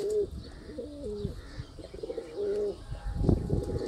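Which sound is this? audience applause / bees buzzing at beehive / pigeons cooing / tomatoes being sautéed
pigeons cooing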